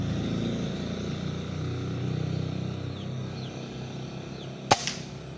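A newly built PCP airgun fires a single sharp, close crack near the end, following a few seconds of low droning background hum.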